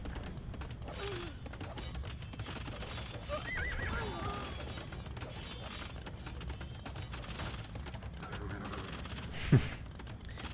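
A horse whinnies from inside a competitive strategy video game match, with soft clip-clop hoofbeats and busy game ambience running throughout and a brief sharp thump near the end.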